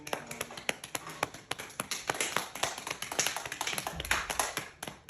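A band gives a slow, soft golf clap in a recording studio at the end of a session, light scattered claps and taps repeating over several seconds.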